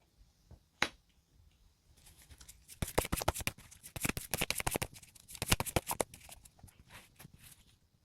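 A tarot deck is shuffled close by: a single sharp snap, then several seconds of dense, rapid riffling and flicking of cards that gradually tapers off.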